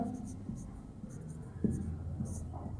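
Chalk or marker writing on a classroom board during a Hindi maths lesson, short scratchy strokes in quick bursts, heard close under a quiet voice.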